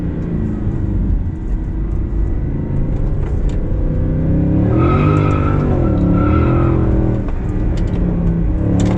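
A car's tires skid and squeal loudly through a corner over a steady engine roar, the screech rising and wavering midway before easing off.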